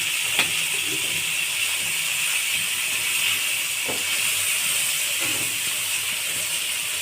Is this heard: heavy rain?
no